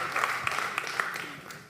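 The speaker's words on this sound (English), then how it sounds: "So, great, applause." Applause from an audience welcoming panelists at a panel discussion, a steady wash of clapping with a few sharper claps and cheers standing out through the short stretch.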